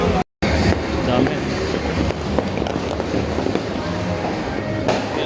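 Fireworks and firecrackers go off continuously on New Year's Eve, a dense crackling barrage with sharp pops scattered throughout. Loud and close, with a brief dropout near the start.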